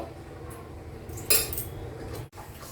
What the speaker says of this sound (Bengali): এবার এতে আমি ঢাকা দিয়ে দেবো।